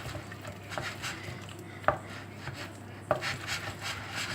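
Choux pastry dough for chouquettes being mixed by hand in a bowl, with soft scraping and rubbing strokes and two sharper knocks of the utensil against the bowl, quiet and close.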